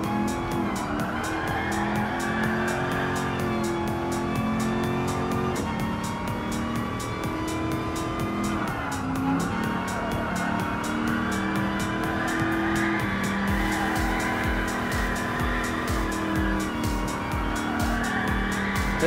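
A Ford Mustang Mach 1 is power-sliding in Gran Turismo Sport with its engine droning loudly and tires squealing in long sustained screeches through a race, louder, harsher revving and a rapid rattling texture arriving toward the end.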